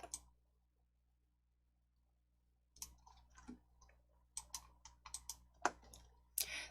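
A computer mouse clicking: a sharp click, a long silence, then a burst of about a dozen close, quiet, irregular clicks in a still room.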